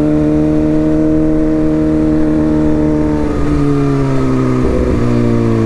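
A Suzuki GSXR 600 sport motorcycle being ridden, a loud, close, steady engine drone with its pitch sagging and then shifting as the rider changes speed.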